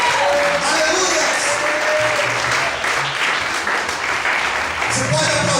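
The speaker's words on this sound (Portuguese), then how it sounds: "Você pode aplaudir o Senhor nessa noite?" Church congregation applauding steadily throughout, a dense wash of clapping from a large crowd with a voice speaking over it.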